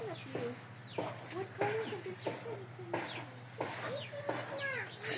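Rhode Island chickens cluck steadily and close by, with short repeated calls overlapping one another in an unbroken farmyard chorus with no talk.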